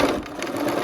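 Sewing machine stitching quilt blocks in steady, continuous close-up whirring, needle clatter running evenly throughout with no talk.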